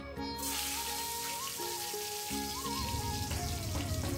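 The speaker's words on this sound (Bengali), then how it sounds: "এখানে তেজপাতা আর রাঁধুনি ফোড়ন দিয়ে দিলাম" Bay leaf and radhuni spice seeds are dropped into hot oil for a taro curry and sizzle loudly, a continuous crackling hiss with faint tonal hum in the background and no one speaking.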